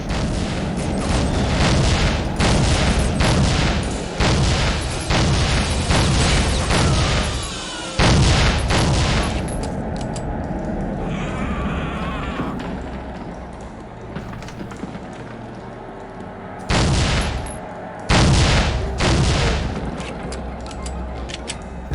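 Heavy, booming gunfire in the shooter game Soldier of Fortune, loud sustained bursts packed tightly for several seconds, then a quieter lull before two more blasting volleys break through near the end.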